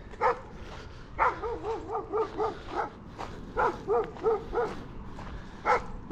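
A happy dog on a Bainbridge Island hiking trail lets out a series of short, close, tonal barks and yelps in quick bursts, with brief pauses between them and faint trail ambience behind.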